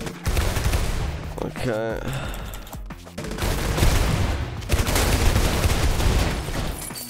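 Rapid gunfire in the video game ROUNDS, dense fusillades of shots that run almost continuously, with a brief break partway through. A voice speaks briefly over the shooting.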